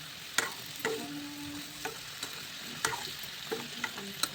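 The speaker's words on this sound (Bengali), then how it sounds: "এখন ভালোভাবে মিক্স করে নেব," A spatula scrapes and clacks in a small kadai as cumin and coriander powder are stirred into a sizzling base for egg curry, giving irregular sharp knocks over a soft, steady fry.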